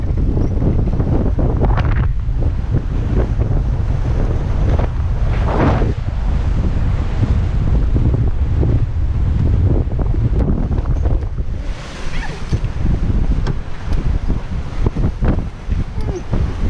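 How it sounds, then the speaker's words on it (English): Strong wind of about 15 to 20 knots roaring across the microphone aboard a sailboat heading upwind, a loud continuous buffeting rush with water and hull noise beneath and a voice speaking at times. "give or take, about between 15 and 20 knots of wind"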